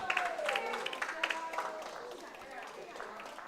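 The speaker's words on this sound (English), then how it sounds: "The applause you hear is from the ladies' game." Faint applause drifts over from a ladies' bocce game at a club championship, scattered claps in the distance while people talk nearby.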